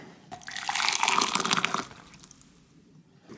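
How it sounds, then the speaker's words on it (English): Hot water poured into a pot, a smooth, steady rush of liquid lasting about a second and a half, loud and close, then tapering to a faint trickle. "And here comes the hot water."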